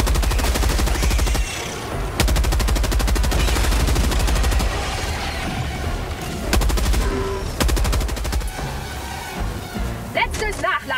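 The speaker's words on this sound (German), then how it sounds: "Oh, schweres Maschinengewehr" Heavy machine gun fire in Helldivers 2 comes in long, loud, rapid bursts with brief pauses, mixed with other gunfire and blasts, and a voice speaks over parts of it.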